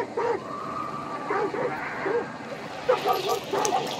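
Dogs bark and yip in Hunt: Showdown in short repeated bursts at mid distance, with a whimpering quality, under steady game ambience and some background voice.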